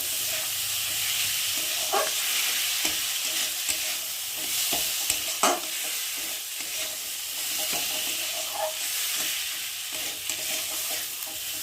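Lentils sizzle and fry steadily in a hot pan while khichuri is made, with occasional scraping clicks of a spoon stirring, no voices.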